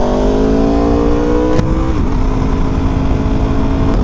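A sport motorcycle ridden with a GP-pattern shifter, its engine droning loud and steady with a rising rev, a brief dip around a gear change, then settling into an even cruise; no talk.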